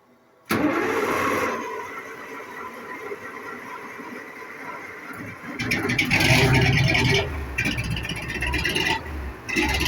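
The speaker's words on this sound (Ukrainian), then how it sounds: "працює наша підкачка, завівся досить таки жваво" A small engine-driven air pump starts abruptly and keeps running with a steady mid-pitched drone that grows louder and rougher halfway through, close and alone.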